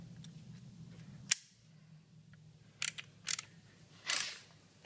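Torque wrench set to 100 foot-pounds tightening a front pulley bolt on a Stryker, giving a few sharp metallic clicks and ratchet bursts, spaced irregularly against quiet garage background.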